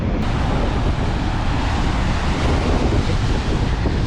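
Sea waves and wind roar steadily along a seashore, a dense, continuous rush of surf with heavy wind buffeting the microphone throughout.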